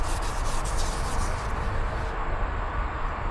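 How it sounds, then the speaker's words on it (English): Wet/dry sandpaper rubbed lightly over primer on a motorcycle part, a Sportster Ironhead being readied for paint, giving a steady, close, continuous scratchy rasp with no pauses and no speech. "you want to have light pressure on your wet dry sandpaper and get a feel"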